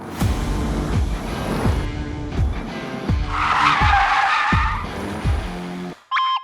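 Car tyres squeal and skid on a road surface with poor grip, a loud sustained screech over the engine that swells midway, followed by a short synthetic chime.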